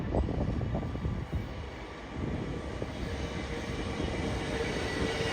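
An LNER Azuma train bound for London King's Cross rumbles through Peterborough station on the East Coast Main Line, a steady, fairly loud broadband roar with low rattling that holds throughout, no talk.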